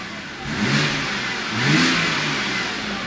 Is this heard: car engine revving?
yes